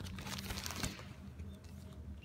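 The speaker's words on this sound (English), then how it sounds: "We've got a plastic bag with instructions." A plastic bag holding instructions crinkles while a package is unboxed, with close rustling and crackling that swells to a sharp crinkle and then fades into softer handling.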